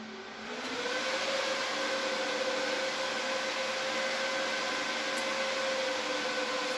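Server powering on, its cooling fans spinning up within the first second and then holding a loud, steady whir with a constant tonal hum for the rest of the stretch.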